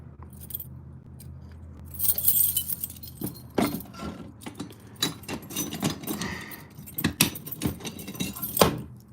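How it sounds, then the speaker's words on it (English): A large bunch of metal keys jangles and clinks in repeated bursts while being searched through, the metallic chinking close and fairly loud over a quiet indoor background. "Search through my mountain of keys here"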